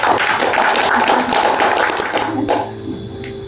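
Audience at an Indonesian self-development workshop applauding, dense continuous clapping filling most of the clip before thinning out and fading near the end, with a faint steady tone underneath.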